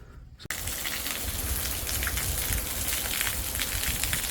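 Rainwater pours through a long roof gutter on a house build in Hua Hin, starting abruptly as a dense, steady splashing and trickling rush that stays loud and even throughout.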